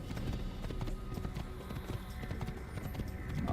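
A horse's hooves pound along in Assassin's Creed, rapid repeated clops close by and fairly loud against a busy wash of game ambience, growing slightly louder near the end.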